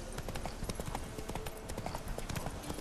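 Roach, the horse in The Witcher 3, gallops with rapid, steady clip-clop hoofbeats throughout, close and moderately loud, with faint background sound under the rhythm.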